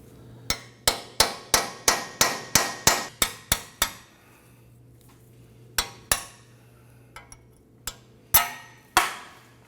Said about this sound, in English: Now we're going to use our chisel to go ahead and pop out our ball joint.